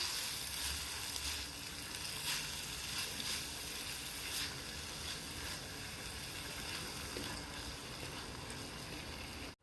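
Chopped onions and green chilies sizzle and crackle steadily in hot ghee, a continuous close frying hiss with no voices over it.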